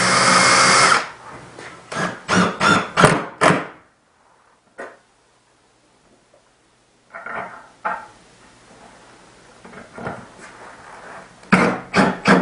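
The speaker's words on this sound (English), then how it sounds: "Just want to pre-drill, at least to the outside." A power drill pre-drills holes while suspended garage shelves are built, giving short loud whirring bursts and clunks in uneven clusters, separated by quiet gaps and some handling knocks.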